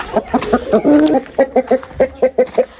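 A rooster clucking close and loud in a quick, rhythmic series of short throaty calls, with one longer drawn-out note near the start, and no talk over it.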